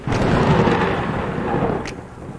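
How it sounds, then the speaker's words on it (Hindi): Thunder crashes in a rainy night storm, a loud deep rolling rumble that fades over a couple of seconds with rain hiss beneath and a brief crack near the end. "फिर से बिजली कड़की"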